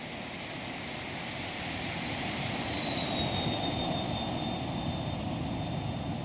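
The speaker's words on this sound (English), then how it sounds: "Let's do a little flyby." An aircraft in the X-Plane 12 flight simulator makes a steady roaring flyby, a continuous engine drone with a high whine gently falling in pitch, moderately loud and without talk.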